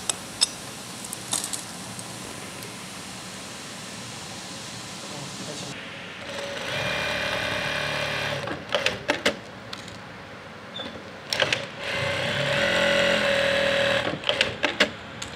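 Jack A4 industrial sewing machine running, with quiet background tone first, then sustained stitching whirr in two stretches broken by clicks and handling knocks, close by.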